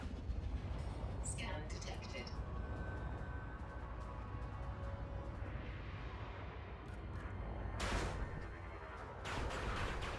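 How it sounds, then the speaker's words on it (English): Gimbaled pulse lasers fire in Elite: Dangerous as a dense, continuous barrage over a heavy rumbling ship drone, with sharper bright zaps cutting through near the start and again toward the end. "Now let's try gimbaled pulse lasers."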